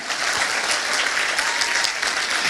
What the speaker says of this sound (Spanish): Damos un aplauso a Jesús.